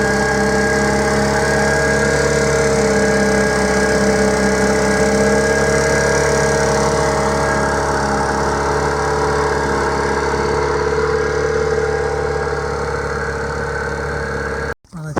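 A small 8 horsepower outboard engine runs steadily at a constant drone on a boat, loud and close, with no talking, then cuts off abruptly at the very end.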